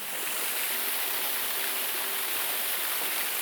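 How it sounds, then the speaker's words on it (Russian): Small artificial waterfall in Takino Suzuran park, a steady close rushing and splashing of falling water that fills the whole stretch with a dense hiss. "Так, еще один водопадик."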